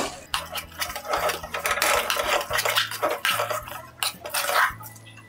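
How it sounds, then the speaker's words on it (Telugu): A ladle mashes cooked rice inside a pressure cooker, giving steady scraping clatter and metallic knocks throughout, with repeating low musical tones playing underneath. "లిడ్ ఓపెన్ చేసుకుని 1 గరిటెతో అన్నాన్ని బాగా స్మాష్ చేసుకోవాలి"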